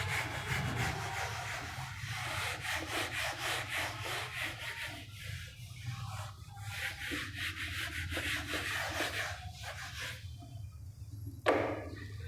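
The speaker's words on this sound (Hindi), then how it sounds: "चलिए यहाँ तक हो गया है, कुछ रब कर देते हैं" Eraser rubbing writing off a board during a maths lecture, a steady dry scrubbing that runs continuously with a brief pause near the end, fairly close and alone without talk.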